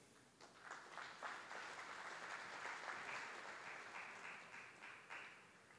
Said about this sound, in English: please give him a warm round of applause both now and after